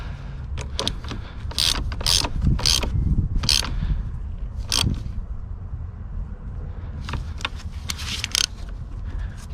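A ratchet tightens the battery hold-down in a Mazda 6 with short clicking bursts, close and fairly loud. The bursts come in irregular clusters between quieter pauses and low rumble.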